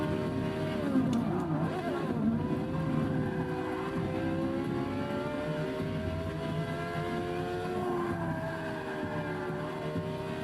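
A Porsche race car engine in Forza Motorsport 6 roars steadily near and loud, its pitch climbing and dropping through gear changes as it accelerates along the track, with faint tire noise underneath.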